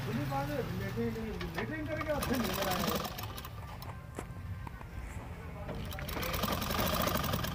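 A sewing machine stitches lace onto the sleeve of a suit, running in loud rapid bursts with brief pauses between runs, close to the microphone, while a person talks over it.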